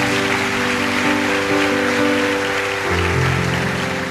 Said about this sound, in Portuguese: Vamos aplaudir a Jesus pela vida do homem.